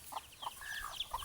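Pet chickens on a farm give a few scattered clucks and a short higher call, faint and slightly distant against quiet surroundings.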